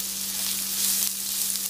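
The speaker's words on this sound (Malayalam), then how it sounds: "ഒരു 2 വലിയ സവോള അരിഞ്ഞെടുത്തേക്കുന്നത്, ഇതും കൂടി ഇതിൻ്റെ ഒപ്പം ഇട്ട് വഴറ്റിയെടുക്കാം" Two large sliced onions with a spoon of salt sizzle as they sauté in a pan for chicken biryani, with a steady, close frying hiss and no talk.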